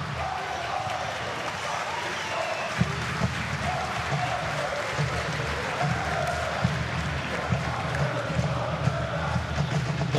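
A football stadium crowd at a Danish league match between Vejle Boldklub and Lyngby cheers and applauds in a steady, dense roar with scattered claps throughout, while a commentator's voice is heard over it.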